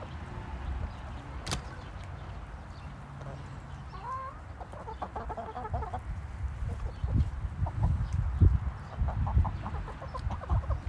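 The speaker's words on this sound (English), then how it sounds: "Beautiful chickens." Rescued chickens and roosters on a snowy homestead farm cluck and call in scattered bursts, some close and some farther off. A sharp click stands out early against a low background.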